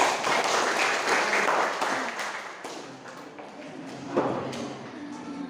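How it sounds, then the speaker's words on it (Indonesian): A classroom audience at a teacher-training teaching practice session gives a round of applause, a thick patter of many hands that swells early and then thins and fades, with a faint voice and a thump near the end. "Kita berikan tepuk tangan ya."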